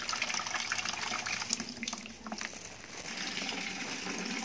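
Plain tap water sloshing and running in a bucket as it is rinsed, a steady close splashing and gushing that continues throughout, with no speech.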